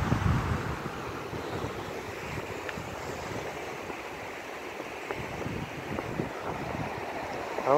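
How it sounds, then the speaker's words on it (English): Steady wind buffeting a microphone beside a historic wooden bridge with a new floor, a broad continuous rumble and hiss that swells slightly at the start and end, with no voices. "apologize in advance for the wind"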